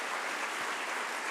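A crowd claps hands in steady, dense applause, a continuous even patter of many claps with no pauses.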